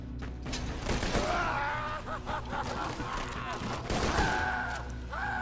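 Distant gunfire and explosive crashes echo through a Borderlands 2 firefight, layered with rumbling effects and whooshing tones, while a voice talks over the fighting.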